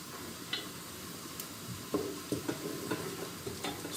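Onions sauté in a pan for soup with a soft, low sizzle under scattered spoon taps and stirring clicks, fairly quiet and close.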